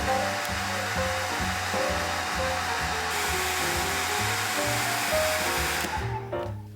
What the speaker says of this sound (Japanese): 全体を溶かせたらドライヤーで乾かします。